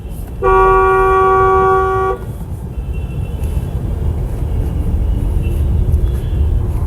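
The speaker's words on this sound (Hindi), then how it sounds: "ट्रैफिक है, हल्का फुल्का तो है।" A car horn blares in one long, loud honk lasting about two seconds, then breaks off, leaving steady road traffic rumbling near the UER 2 underpass.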